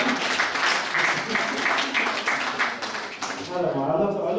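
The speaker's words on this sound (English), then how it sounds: "I think we meant to clap." Audience at a live talk clapping for a few seconds, a mid-sized crowd at close range, with voices talking over the clapping before it fades.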